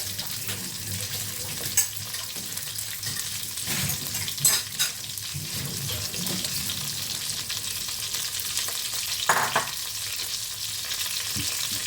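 Food frying in hot oil as a cook turns it over, ahead of a malai curry made without coconut milk; a steady close sizzle runs throughout, with a few louder crackles and the clink of a spatula.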